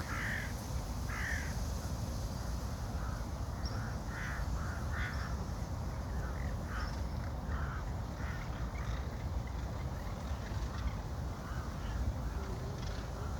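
Near a forest lake, a flock of birds keeps up scattered, repeated calls and caws, moderately distant, above a steady wash of wind and outdoor ambience.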